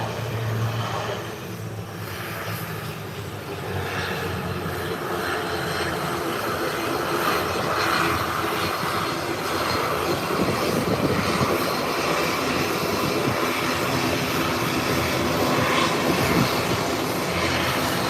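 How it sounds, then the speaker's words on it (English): An ATR turboprop airliner rolling out after landing gives a continuous loud engine drone and roar, swelling slightly over time, with no speech. "The ATR 43 has just landed."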